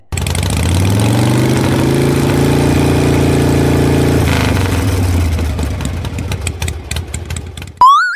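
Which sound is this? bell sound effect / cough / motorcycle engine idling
motorcycle engine idling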